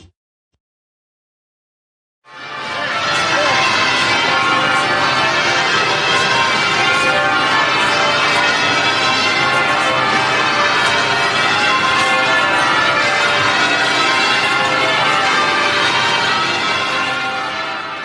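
After a moment of silence, church bells in London break into a loud, full, continuous peal of overlapping ringing that holds steady to the end.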